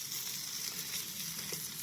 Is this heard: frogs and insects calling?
no